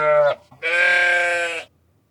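A sheep bleats loudly and close by: a short call, a brief pause, then one long, wavering bleat lasting about a second before silence.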